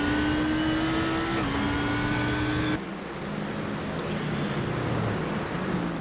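GT race cars lap Twin Ring Motegi in the sim racing game iRacing, a loud, steady engine drone holding a high whine that shifts down partway through as the cars brake and carry on.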